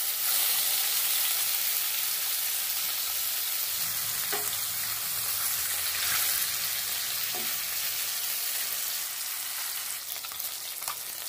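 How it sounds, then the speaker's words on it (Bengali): Snakehead fish rubbed with salt and turmeric fries in hot oil, a loud steady sizzle filling the whole span with faint stirring clicks, no voices. "লবণ হলুদ মাখানো শোল মাছটা এবার ভেজে নেব।"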